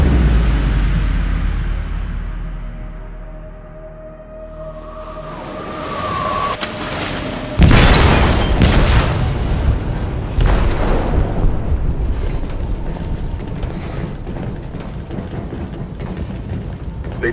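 An explosive detonates in a ship's hold in Detroit: Become Human, starting with a low rumble that builds before a loud, sudden blast followed by crashing debris and continuing roaring turbulence.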